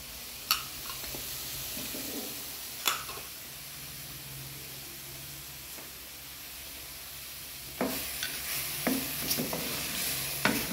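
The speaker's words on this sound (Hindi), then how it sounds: "अब आप इसके अंदर डालेंगे साबुत गरम मसाला।" Whole garam masala sizzling in oil in a karahi for mutton karahi, with ginger-garlic paste in the pan: a soft steady fry broken by sharp scraping clicks of a stirring spoon, busier toward the end.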